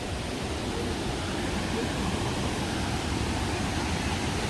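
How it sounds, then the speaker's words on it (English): A waterfall at a rocky dead-end spot pours in a steady, dense roar that stays constant and fairly loud throughout, with no voices over it. "Well, this is the waterfall."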